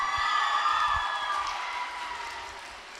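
Audience applause for second-place finisher Olivia Pinard at a school race podium, a faint, distant patter of clapping with a few cheers and whoops that slowly fades.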